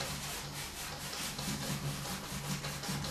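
Soft, continuous brushing and rubbing as a paintbrush makes light crisscross strokes while painting a waterfall, a steady scratchy texture with faint repeated pulses, close and alone with no talk.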